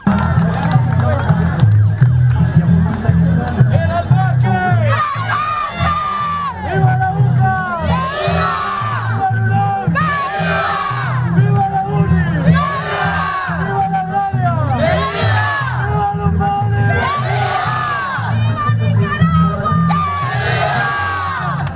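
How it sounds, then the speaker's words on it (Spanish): Student and teacher protest crowd at a university sit-in shouting slogans in unison, loud rhythmic chanting voices rising and falling in repeated bursts over a constant crowd din. "a una sola voz gritaban lemas y consignas"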